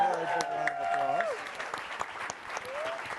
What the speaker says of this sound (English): Please give her a big round of